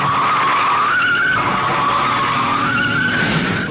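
A tire skid braking sound effect plays as two loud, drawn-out rubber squeals in quick succession, each rising and falling in pitch.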